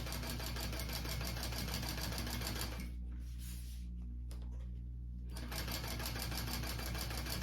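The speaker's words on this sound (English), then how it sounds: "So I am going to sew down each edge at an 1/8 inch seam allowance here from my edge." Sewing machine stitching down the edge of a handbag strap at a narrow seam allowance, a steady close whirring hum that pauses briefly mid-stitch before running on at the same pace.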